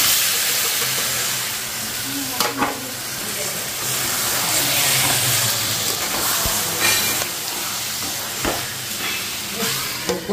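Mutton frying in hot oil in a home kitchen, a steady close sizzle and hiss with occasional stirring knocks and spatters.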